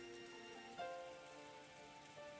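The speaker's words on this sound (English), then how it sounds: "the obnoxious pounding of the rain against the window" Rain patters faintly and steadily against a window in the Umineko When They Cry visual novel, a soft continuous hiss beneath low tonal background music.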